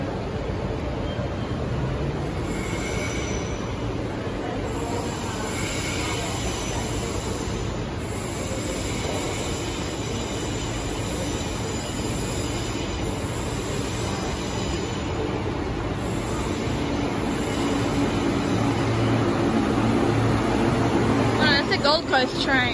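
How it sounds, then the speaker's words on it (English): An Ipswich passenger train rumbles into Central Station with a steady low roar, rising toward the end as wheels squeal faintly and brakes hiss. "here comes an Ipswich train"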